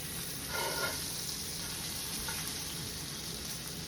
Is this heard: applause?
no